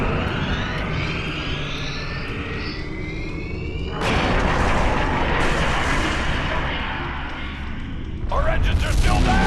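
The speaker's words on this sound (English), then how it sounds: "The Queen is going to full impulse. She's gonna ram the Nakul Dreadnought!" In the Star Trek Online video game, a starship rams a dreadnought, heard as sweeping whooshing tones followed by a sudden loud burst of explosion noise and then a second blast.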